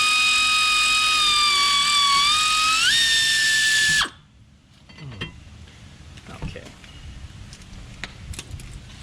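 Air-powered wrench on the rear brake bolts of a 2015 Subaru Outback 2.5L Premium: a loud, high whine that rises in pitch, stops abruptly after about four seconds, then gives way to faint metallic clinks.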